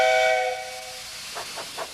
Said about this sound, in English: Aren't you glad I found my whistle?